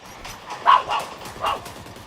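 A dog barks a few times indoors, two or three short mid-loud yips in a quick run, over a faint game soundtrack murmuring underneath.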